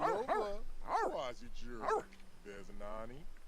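A cartoonish dog in The Sims 3 life-simulation game gives several quick yipping barks and whimpers at close range, in bursts with short gaps between them and no speech over them.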